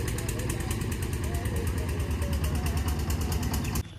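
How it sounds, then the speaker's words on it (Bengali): Engine of a fishing boat on the Padma river starting up and running, a close, rough rhythmic chugging that persists steadily under a noisy outdoor background before dropping off at the end. "এখন মেশিং স্টার্ট দিচ্ছে"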